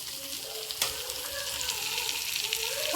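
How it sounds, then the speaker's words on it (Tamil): Steady sizzling of turmeric frying in hot oil, close by, with a soft scrape of stirring partway through. "எண்ணெயிலேயே மஞ்சத்தூள் நல்லா வதங்கட்டும்"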